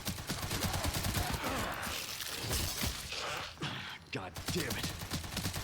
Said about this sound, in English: shoot him in the legs with the machine gun